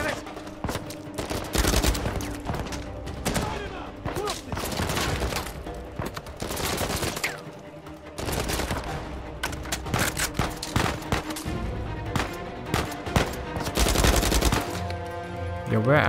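Heavy gunfire in Uncharted 4, repeated machine-gun bursts and single shots in clustered volleys over a sustained combat soundscape, loud and close, with brief lulls between exchanges.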